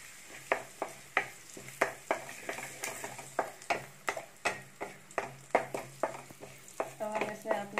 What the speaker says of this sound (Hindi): और हम इसे अपने खड़े मसाले को थोड़ा भून लेते हैं।